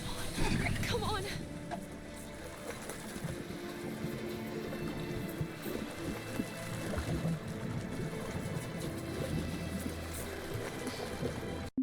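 A leaking, overloaded boat with a broken engine drifts on water in Detroit: Become Human, a murky wash of sloshing water and creaking under a low rumble, with voices mixed in.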